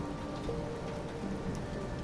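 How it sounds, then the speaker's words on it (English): Freezing rain falls steadily through the night, a soft, even patter of drops on surfaces that stays continuous and faint throughout, with no voices. "The freezing rain fell methodically all night long"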